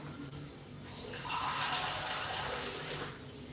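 Water pours into a pan of peas curry in a short, soft splashing rush that swells and then tapers off.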